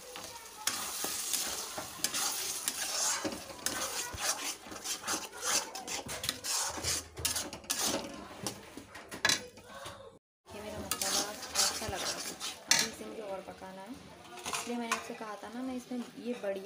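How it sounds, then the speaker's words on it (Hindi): Tomato paste is stirred into frying onions for a mushroom curry: continuous scraping and rasping spoon strokes over a steady sizzle, close and busy, with one brief hush partway through. "अब मैं इसमें टमाटो पेस्ट डाल रही हूँ। देखिए ये अब प्याज और अच्छे से पक जाएगा।"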